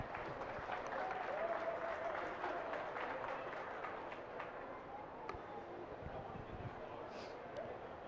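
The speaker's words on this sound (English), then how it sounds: "Let's give those exhibitors in class 1 a big round of applause" Crowd applause rings out for exhibitors in the ring at a 4-H/FFA market swine show, steady broad clapping over about eight seconds with a murmur of crowd voices mixed in.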